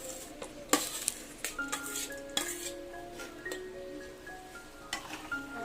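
Washed rice tipped into a metal pot already holding vegetables for mint pulao, giving scattered clinks and scraping stirs of utensil on cookware, with a faint sizzle underneath.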